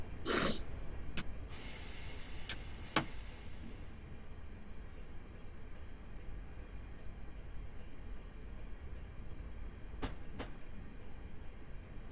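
A Class 319 electric train on the London to Bedford route in Train Simulator 2015 gives a steady rolling rumble, with a brief hiss early on and a few clicks.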